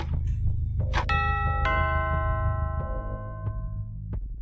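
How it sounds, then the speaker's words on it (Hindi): A doorbell chimes, a bright two-tone ding-dong with ringing tones that decay, over a low steady background hum. "घर की डोरबेल बजी।"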